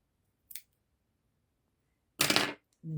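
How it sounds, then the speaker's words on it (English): Sharp shears snip through fabric while a sewn top is prepared, a single short cut near the start followed by a longer crisp double snip a moment later, then a soft rustle of cloth; quiet room, no talk. "snip"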